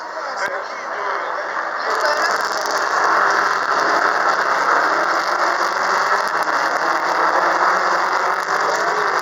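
Racing cars roar away at the start of a race at the Nogaro circuit, a loud, steady mass of engine noise that builds and holds while someone talks nearby.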